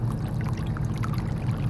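Water gushes steadily from the outfall of a French drain carrying runoff from under a backyard deck, a continuous low splashing pour with no pauses.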